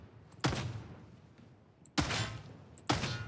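Three loud, sharp bolt pistol shots from Warhammer 40K: Darktide, spaced unevenly about a second and a half apart, each with a booming explosive tail.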